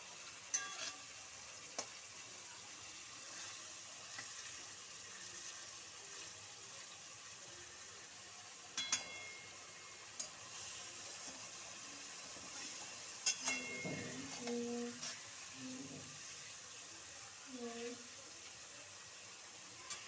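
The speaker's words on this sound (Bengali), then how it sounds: "এবার মশলাটাকে ভালো করে কষবো।" Masala with chopped tomato frying and being stirred in a pan, a quiet steady sizzle with occasional scrapes and clinks of the spoon, a few louder stirring bursts near the end.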